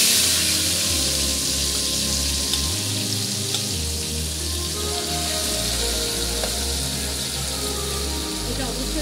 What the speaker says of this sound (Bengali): প্যানে তেল দিয়ে দিয়েছি, এবার আমি ভেজে নিচ্ছি মাছগুলো।